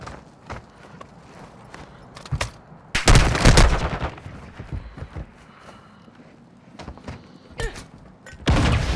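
Bursts of gunfire in a video game shootout, scattered single shots and louder rapid volleys, with quieter gaps between them and one heavy burst near the end.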